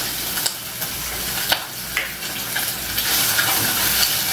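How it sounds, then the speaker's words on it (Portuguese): Smoked breast meat fries in a frying pan with a steady, close sizzle and occasional clicks as it is moved about; no talking. "Já estou fritando na minha frigideira um peito de algum animal defumado"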